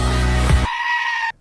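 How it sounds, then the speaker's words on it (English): Goat from the Taylor Swift goat meme, a loud strained bleat that blends into music, then a thin sustained tone before stopping abruptly. "and then the goat would play"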